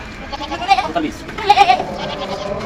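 Goats bleat twice, short wavering cries close by, mixed with background chatter and voices.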